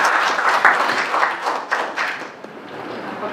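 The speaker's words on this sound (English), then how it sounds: "please give a round of applause for Anne Osborn." Audience applause at a survivorship seminar, a crowd clapping with uneven swells and individual claps standing out, fading somewhat toward the end.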